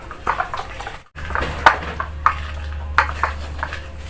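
Stone mortar and pestle (ulek) grinding spicy chili ingredients with oil for homemade noodles, a steady scraping with several sharp knocks of stone on stone, close and fairly loud, no talk.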